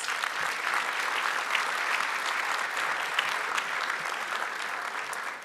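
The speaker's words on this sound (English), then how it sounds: "Let's give them a round of applause." Sustained audience applause at an awards gala, dense even clapping from a large crowd, steady and fairly loud throughout with no talk over it.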